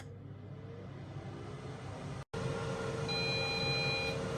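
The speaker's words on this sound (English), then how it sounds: "now the air fryer has beeped" A brief high electronic beep from an air fryer sounds over a low humming fan, following a short dropout.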